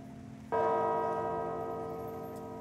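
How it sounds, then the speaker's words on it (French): Church bells at a Russian monastery, the New Jerusalem Monastery, ring out at the end of mass: one bright, resonant stroke lands after a moment of room hum, then sustains and slowly decays. "Les cloches, qui rythment les diverses étapes, sonnent la fin de la messe."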